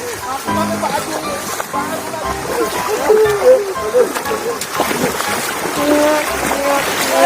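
Water splashes and sloshes as a person is dunked into a river, with steady churning close by while people talk over it.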